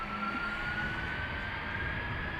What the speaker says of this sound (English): In the meantime, entering the runway is a Delta A330.